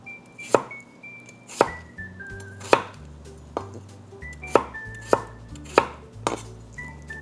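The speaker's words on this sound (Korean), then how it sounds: "그래서 좀 작게 잘라주세요" A knife chops potatoes into small pieces on a board for minari potato bukkumi, with about eight sharp, evenly spaced thuds ringing out close and clear, and no voices.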